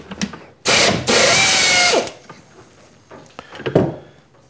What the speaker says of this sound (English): let me take this end mill out of here so I don't break it